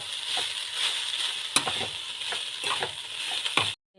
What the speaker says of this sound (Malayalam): നല്ലോണം ഒന്ന് യോജിപ്പിച്ച് കൊടുക്കുക